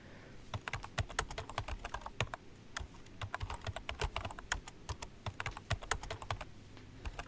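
Rapid keystrokes clatter on a computer keyboard as HTML code is entered, an irregular stream of close, crisp clicks with no voices over them.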